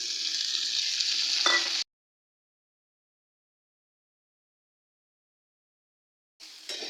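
Chopped onion, ginger, garlic, tomato and green chili fry in a pan, giving a dense hiss for under two seconds. It cuts abruptly to silence, then the sizzle briefly returns at the end.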